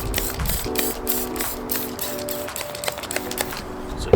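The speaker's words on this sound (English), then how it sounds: "let's go ahead and spray this headlight with the soapy water" A spray bottle fires a quick series of short, hissing squirts of soapy water onto a car headlight, with clicking trigger pulls, close by, over a steady mechanical hum.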